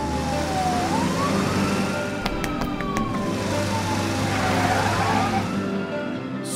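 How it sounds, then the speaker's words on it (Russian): An ambulance siren wails in a slow rising and falling tone, loud and steady over a constant engine rumble, with a few sharp clicks partway through and no talk. "едет скорая помощь"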